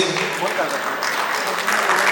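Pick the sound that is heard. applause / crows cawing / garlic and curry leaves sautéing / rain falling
applause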